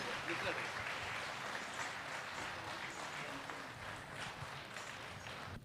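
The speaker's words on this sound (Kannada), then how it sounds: "ಬರಲಿ ಒಂದು ಜೋರಾದ ಚಪ್ಪಾಳೆ ಅವರಿಗೆ" An audience at a Ganesh Utsava stage programme in Bengaluru claps, giving a continuous, fairly distant wash of applause with voices mixed in.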